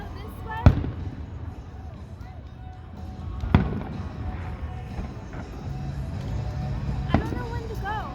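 Fireworks explode outdoors as three sharp, booming bursts spaced a few seconds apart, each with a short echoing tail, while people talk nearby between the blasts.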